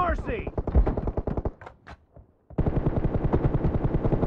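Rapid automatic gunfire in the mobile game PUBG Mobile, two dense bursts of shots separated by a brief pause, with voice callouts heard over the firing.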